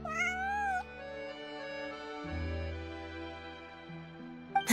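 A cat in the video game Genshin Impact gives a single short, high meow at the start, followed by soft background music and a faint chirp at the end.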